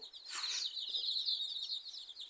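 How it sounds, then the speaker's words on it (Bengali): Desi chickens and young chicks kept in wire cages bought from a village market make a steady high chirping and peeping, with one brief louder squawk near the start; no one speaks. "তো এই হচ্ছে আমার মুরগিগুলো"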